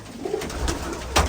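Pigeons of the Teddy, Chapda and Golden breeds in a Rampur loft give a few soft, low coos. The calls are brief and moderately close, set over a steady murmur of background noise.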